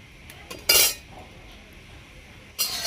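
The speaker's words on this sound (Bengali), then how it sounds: "তেলটাকে ভালোভাবে কড়ার চারপাশে আমি এরকম খুন্তি দিয়ে ছড়িয়ে দেব।" A metal spatula spreads oil around a hot iron wok with two quick, bright metallic scrapes about two seconds apart, close and crisp over a quiet kitchen background.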